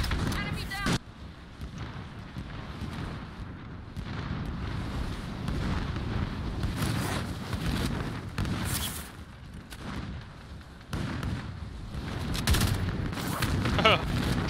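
Gunfire and explosions rumble in a Call of Duty Warzone match, bursts of shots and booms rising and falling over a steady background din while a person talks.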